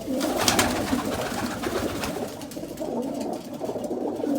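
Pigeons coo continuously in a loft, a dense layered chorus of low, throaty calls filling the space close by with no talking.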